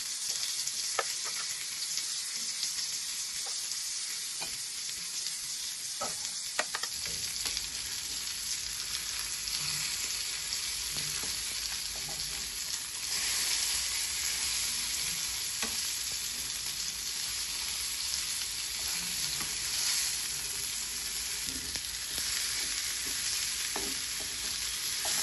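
Pollock fish in egg batter fries in a pan with a steady, close hiss and crackle of sizzling oil that runs for the whole stretch, with a few faint clicks early on and no voices.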